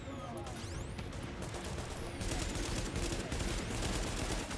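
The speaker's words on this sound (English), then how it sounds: "Who is shooting me from the right?" Gunfire in The Division video game breaks out as repeated rapid bursts of automatic weapon shots over a busy combat background, growing denser partway through.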